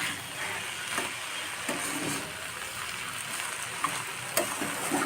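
Aubergine softly simmering and sizzling in its own released water in a pan over very low heat, a steady gentle bubbling hiss with a few small clicks, close and fairly quiet.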